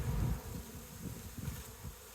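Honey bees from a wild-caught colony in Barbados buzz around an open hive frame, a dense, close, continuous drone that pulses in volume throughout.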